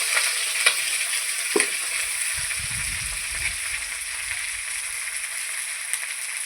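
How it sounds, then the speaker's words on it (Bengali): Slit green chillies dropped into hot oil sizzle loudly and steadily in a pan, with a brief clatter as they go in and a low bubbling crackle beneath the constant hiss. "এখন আমি কাঁচা লঙ্কা কয়েকটা চিড়ে রেখেছি, সেটা তেলে দিয়ে দিচ্ছি।"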